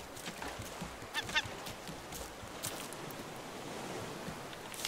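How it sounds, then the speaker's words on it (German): Seagull calls in the survival game Raft, a few honking cries over a steady wash of ocean and wind ambience, moderately faint. "Möwe."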